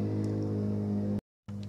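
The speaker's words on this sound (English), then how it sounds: "You can hear my dad mowing the lawn outside." A lawn mower runs steadily outside, a constant low engine drone with strong harmonics that cuts out briefly near the end and then resumes at the same level.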